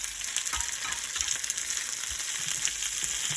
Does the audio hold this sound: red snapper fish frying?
yes